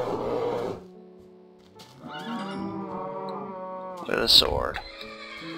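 Horses neigh and whinny in Minecraft, a harmonic whinny rising and falling over about two seconds mid-clip, with a brighter squeal near the end, while someone talks over the game audio at the start.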